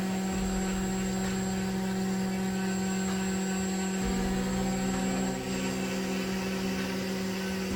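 A CNC machine with a rotary fourth axis cuts a dragon-skin texture into an aluminum F2R flashlight head, giving a steady machine hum with sustained tonal whine; the pitch shifts slightly midway, with no talking.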